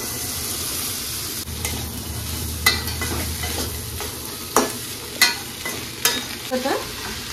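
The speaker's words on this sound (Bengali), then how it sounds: "এবার আমি এর উপরে সিদ্ধ ছোলাটা দিয়ে দেবো।" Boiled chickpeas tipped into a sizzling masala and stirred, with scattered sharp spoon scrapes against the pan over a low steady frying hiss.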